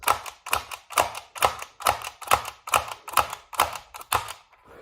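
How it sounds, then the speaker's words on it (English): An X-Shot Skins toy blaster clacks in a fast, even series of about ten sharp plastic snaps as it is fired and its slide is pulled back, loud and close with no voices. "It's both firing the blaster and it's also pulling back this slide to make that annoying noise."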